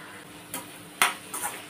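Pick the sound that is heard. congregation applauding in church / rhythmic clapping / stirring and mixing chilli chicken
stirring and mixing chilli chicken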